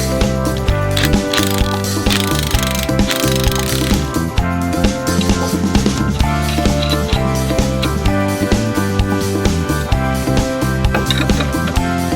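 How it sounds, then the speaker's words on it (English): A ratchet wrench tightens a longer bolt on a 20-year-old mower under restoration, clicking in a fast, continuous metallic rattle of pawl ticks, loud and close for several seconds with a steady mechanical hum underneath. "So I'm going to put in a longer bolt and double up on the screws."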